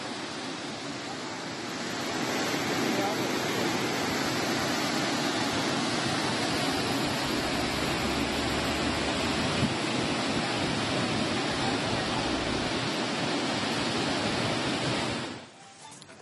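Water released through the crest gates of the Narihalla reservoir in Sandur, Ballari, during heavy rain makes a loud, continuous, roaring rush that swells up early and cuts off near the end.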